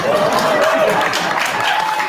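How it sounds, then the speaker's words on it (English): Audience at a monthly political club meeting claps steadily for about two seconds, a dense, fairly loud patter with a faint tonal hum underneath and some murmuring voices. "thank you for clapping that I turned 57"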